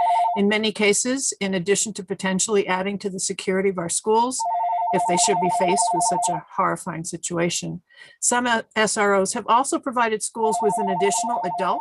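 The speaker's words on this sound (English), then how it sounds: "Sorry for the phone in the background. We still have a landline." A landline telephone rings in the background of a public hearing, giving three separate bursts of steady electronic trilling that come and go beneath continuous close talking.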